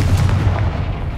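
Confringo blasting spell cast in the Hogwarts Legacy video game, a loud, close, booming blast that rumbles briefly and then fades, heard alone.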